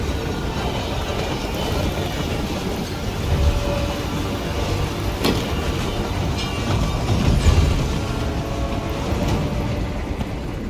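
Moving train in the video game Hitman 3, set in the Carpathian Mountains: a steady rumbling roll with faint rattling runs throughout, with a few brief knocks and clanks over the constant noise.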